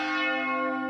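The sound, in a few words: church carillon bells of the Basilica of Aparecida, Brazil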